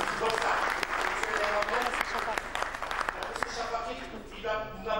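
Audience at a Moroccan e-commerce conference applauding, dense sustained clapping throughout with a presenter's voice and some cheering mixed in, fading somewhat toward the end.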